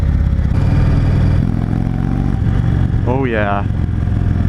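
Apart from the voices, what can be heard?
2016 Indian Chief Dark Horse motorcycle engine at open throttle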